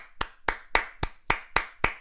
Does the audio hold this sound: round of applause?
yes